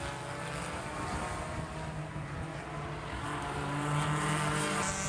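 Race cars in a FARA Miami 500 endurance event, GT4-class cars among them, roar steadily through turns on the circuit, a continuous engine drone that swells louder near the end with no talk.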